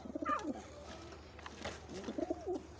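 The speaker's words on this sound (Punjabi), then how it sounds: "ਆ ਸਾਡਾ ਕਬੂਤਰ ਹੈ ਲੱਕੀ ਲੱਕਾ" Pet pigeons of the lakka breed cooing in a series of soft, throaty, rolling calls, several bursts close to the microphone with a pause between them.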